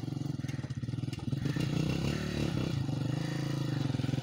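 A motorcycle engine chugs in a fast, even pulse on a rough village road, then swells louder and rougher as it pulls forward, close to the listener with no talk over it.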